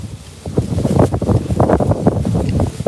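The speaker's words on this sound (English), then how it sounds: "Still pretty windy out here." Gusty wind buffets the microphone outdoors, a loud, continuous rumbling roar with surging bursts and no clear voices.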